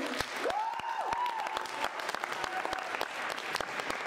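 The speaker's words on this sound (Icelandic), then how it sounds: "ég bið ykkur að klappa kærlega fyrir honum" Light, scattered applause from a small audience at a song and songwriting contest, with sharp individual claps standing out and a voice briefly heard over it.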